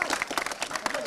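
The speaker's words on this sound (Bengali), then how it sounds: "তাহলে জোরে একটা হাততালি হোক" Crowd of protesters at the Secretariat breaking into clapping, a brief dense burst of applause mixed with voices.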